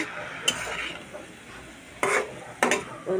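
Pumpkin leaves being stirred in a cooking pan, soft scraping and stirring strokes with a few sharper utensil clatters against the pan, close and fairly quiet, with no talk.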